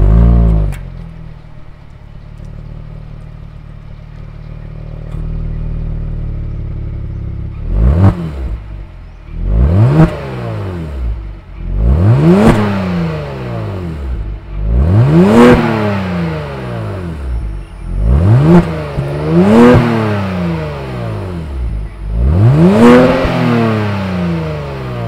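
A 2022 Genesis G70's 3.3-liter turbo V6 starts, settles into a steady idle, then is revved six or seven times in sharp, evenly spaced bursts, heard loud and close with no talking.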